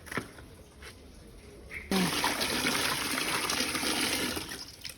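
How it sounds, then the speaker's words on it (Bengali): Running water from a tap splashes over raw chicken pieces being washed clean, a steady close gush that starts after a quieter trickle and continues loudly to the end. "মাংস আমি ধুইয়া ফেলতেছি, ধুইয়া একদম ক্লিন করে ফেলতেছি"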